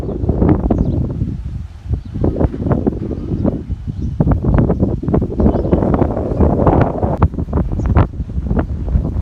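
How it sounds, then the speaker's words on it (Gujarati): Strong stormy wind in Porbandar roars and buffets the microphone in heavy, uneven gusts, with rain-laden turbulence and no one speaking. "થાય થી ઝાડવા બધા ભાંગે પડે એવા પવન આવે"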